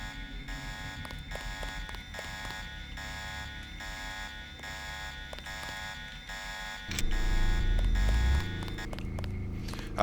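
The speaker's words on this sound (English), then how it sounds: "He did trigger the alarm." Deus Ex alarm blaring after an enemy guard spots the player, a steady buzzing electronic tone running continuously with rhythmic pulses, loud and close, over game background noise with a heavy low rumble near the end.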